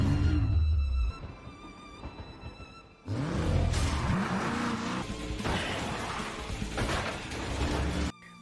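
Car chase in the animated film Nezha Reborn: loud roaring engines and rushing vehicle noise with crash-like bursts, dropping briefly before surging back for the rest of the stretch.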